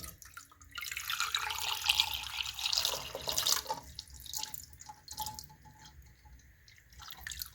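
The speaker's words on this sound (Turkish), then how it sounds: "Yumurtaları kaplayacak kadar üzerlerine su dökelim." Water is poured over eggs in a pot, a close, rushing pour that swells for about three seconds and then tails off into softer trickles and drips.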